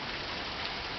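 Monsoon rain falling steadily in a dense, even hiss of drops on surfaces, close and unbroken, with no talk.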